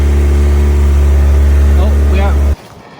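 A Honda B16A engine runs loudly close by with a strong, steady droning hum, and people talk excitedly over it before the engine cuts off abruptly near the end.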